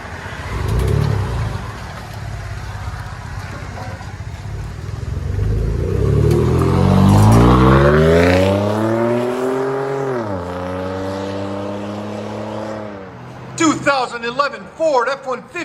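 A Ford F-150 EcoBoost V6 pickup with a loud aftermarket exhaust revs up, its pitch climbing and then holding before it drops off, with a voice talking at the start and again at the end.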